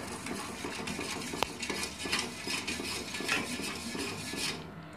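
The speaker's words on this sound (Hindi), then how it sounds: "तो हमने जो शक्कर ऐड की है उसे हम अच्छे से मिक्स कर लेंगे" A spoon stirs and scrapes steadily in a pot as sugar is mixed into boiling milk, with light metallic clinks and one sharp tap.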